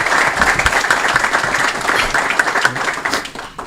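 Applause from an audience at a city council meeting, steady clapping filling the room for several seconds before tapering off slightly at the end.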